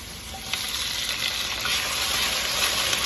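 Tomatoes hit a pan of frying onion and garlic, giving a dense, steady sizzle that stays loud and close throughout, with faint stirring scrapes.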